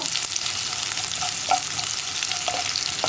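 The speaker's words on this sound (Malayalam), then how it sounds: "ഇനി ഉള്ളി ഒന്ന് ലൈറ്റായിട്ട് ബ്രൗൺ ആയി വരുന്നത് വരെ നമ്മൾ ഇളക്കി കൊടുക്കുക." Onion stirred and fried until light brown gives a continuous close sizzle broken by small scraping taps from the stirring.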